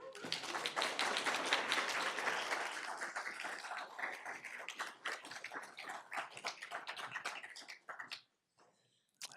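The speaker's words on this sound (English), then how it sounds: "Clap now." Clapping from an audience at a school board meeting, a burst of many hands that thins into scattered claps before dropping to near silence, then a faint final sound.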